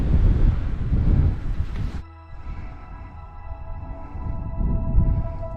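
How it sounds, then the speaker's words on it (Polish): Strong winter wind in the Tatra Mountains buffets the microphone in heavy gusts, roaring low and loud, dropping briefly before rising again outdoors by a large mountain lake. "No tylko ten wiatr."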